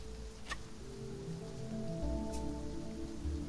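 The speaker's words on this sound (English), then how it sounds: "Here comes the rain again." Rain falls in the survival game Sheltered, a soft steady patter on surfaces that thickens slightly midway, with faint low tones and a couple of brief sharp clicks above it.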